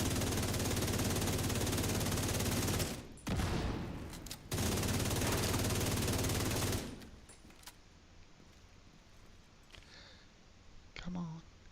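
Sustained automatic gunfire from a shooter in the video game The Division 2 roars loudly in two long bursts separated by a short gap, then falls away to quiet with a few faint clicks and brief voice sounds.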